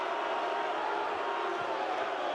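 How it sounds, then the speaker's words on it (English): Football stadium crowd reacting to a pass interference penalty flag against Regina, a steady, loud, broad roar of many voices with no single standout shout. "The crowd doesn't like it, but it was a good call"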